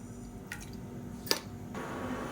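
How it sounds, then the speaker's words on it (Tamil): Salted water bubbles quietly in a pot, with soft irregular pops and gurgles over a low steady background. "இப்போ பாருங்கள், தண்ணி நல்லா கொதிக்க ஆரம்பிச்சிருச்சு."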